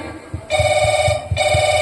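A mobile phone rings with an incoming call: a loud electronic ringtone plays in two steady tonal bursts with a short break between them, over a soft rhythmic background pulse.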